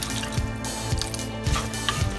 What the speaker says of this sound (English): So I'm going to add water to this